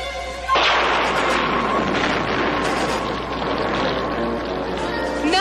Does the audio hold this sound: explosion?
yes